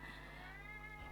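A stray cat of unknown origin meows faintly and close by over a steady low background hum, one short drawn-out call.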